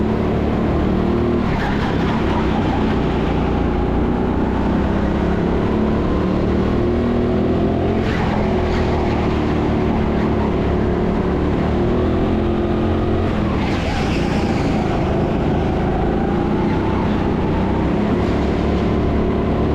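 Go-kart engines at an indoor TeamSport Sheffield track drone loudly and continuously, pitches rising and falling as they race and rev, with no pauses.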